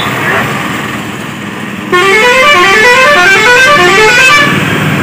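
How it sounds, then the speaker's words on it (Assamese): Loud, blaring horns of buses and cars in busy street traffic during Durga Puja in Tezpur, Assam, 2022, a long continuous run of overlapping honks starting midway, with voices talking nearby. "ইমান গাড়ী চাড়ী আহিছে, একো শুনা চুনাই নাপায় ক'ব গ'লে দেই।"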